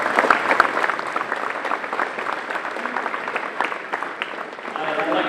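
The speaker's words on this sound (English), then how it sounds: "give them a great round of applause." Banquet audience at a high school football team's awards dinner claps in a steady, full round of applause, dense and continuous with a few louder claps and faint voices beneath.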